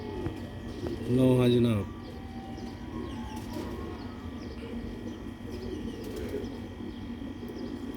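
Pigeons cooing, a soft low repeated coo under a voice, with another brief coo later against steady background murmur.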